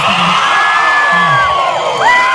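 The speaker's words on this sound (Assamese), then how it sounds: "এবাৰ কিন্তু বম জোৰেৰে উকি এটা আৰু হাত চাপৰি এটা হ'ব" An Assam police battalion camp event crowd roars with cheering and whoops, a dense loud wash with shrill whistles rising and sliding overhead throughout.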